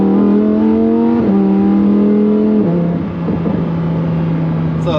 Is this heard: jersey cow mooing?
no